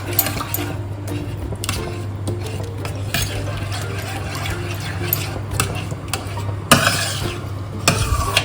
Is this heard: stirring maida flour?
yes